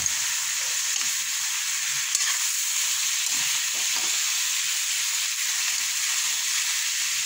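Kaldereta stew stirred in a pan gives a steady, close sizzle with faint scraping of the spoon now and then, and no one talks.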